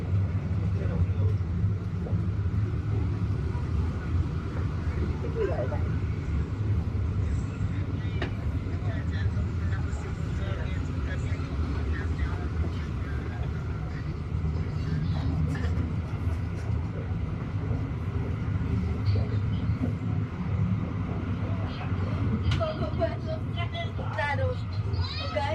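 Inside the moving Chilean SFB500 fast train, a steady low rumble and rolling drone fill the carriage throughout, with faint rattles and clicks and a person talking over it.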